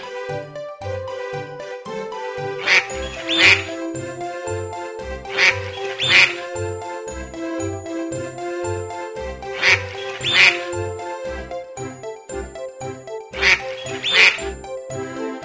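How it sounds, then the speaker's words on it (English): In the Play Doh ABCs game, a cartoon duck quacks in short paired bursts that recur at regular intervals over a bouncy, tinkling musical backing. "D is for duck, swimming out in the lake. Quack, quack is the sound that you'll hear it make."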